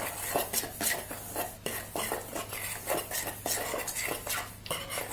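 Utensil stirring and scraping through a wheat arepa mixture of cold flour and goat tallow, close up with repeated clinking strokes against the bowl, steady and fairly loud with no talking.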